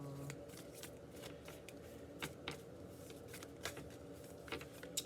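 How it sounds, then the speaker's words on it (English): Tarot cards are shuffled and let fall in a quiet, close riffling sequence, with several crisp flicks and slaps spaced through the stretch. "Just kind of letting the cards fall."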